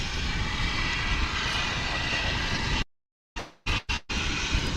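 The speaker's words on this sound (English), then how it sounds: "It's an MD-11. It's on its way to Louisville, which is the primary hub for UPS cargo here in the USA." A UPS MD-11 cargo jet dating from 1994 roars steadily at Dallas/Fort Worth airport. The sound cuts out abruptly for a moment, stutters in short bursts, then returns.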